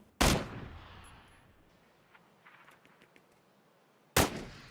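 Two loud, sharp M16 rifle shots ring out in the game Battlegrounds, about four seconds apart, each with a short tail fading into quiet between them.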